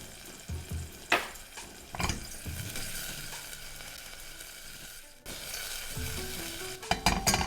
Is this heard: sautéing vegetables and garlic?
yes